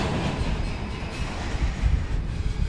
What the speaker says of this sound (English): this train, it's just rolling back and forth, doing its train business